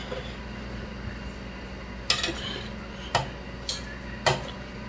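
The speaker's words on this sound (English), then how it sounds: "Okay, I'm gonna flip it over real quick." Chinese BBQ pork being flipped over in a pan: a few sharp, moderately loud clinks and taps of utensil against pan, spaced about a second apart over a low steady background hum.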